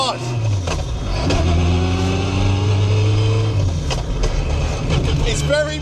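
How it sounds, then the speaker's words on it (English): A Toyota MR2 with a swapped Honda K20 engine drives along, its strong rising and falling transmission whine riding over loud engine drone inside the cabin while people talk excitedly over it. "Oh, the transmission whine!"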